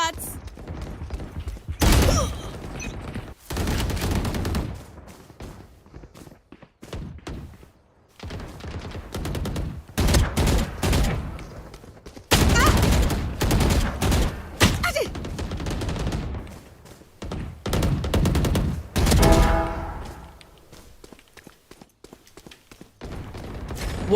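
Repeated bursts of gunfire from the video game Valorant crack loudly, broken by short pauses, with bouts of rapid automatic fire throughout.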